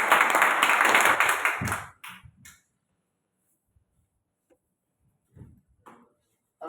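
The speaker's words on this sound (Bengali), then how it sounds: "আমাদের করতালির মাঝে আমাদের লিডারকে আমরা স্টেজে আসার জন্য অনুরোধ জানাচ্ছি।" Audience applause breaks out at a gathering as a leader is invited onto the stage: dense, loud clapping for about two seconds that stops abruptly, followed by near silence with a few faint taps and small shuffles.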